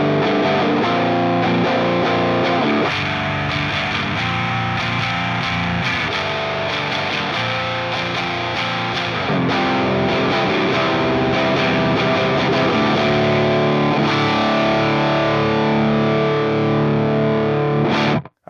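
An electric guitar riff played through a distortion pedal, then through amp clean channels and power amp sections, with thick sustained chords and single-note lines repeating continuously for the whole stretch, loud and close.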